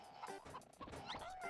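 A game chicken in Mort the Chicken makes several quick, faint clucking and gobbling calls in an irregular burst of short squawks.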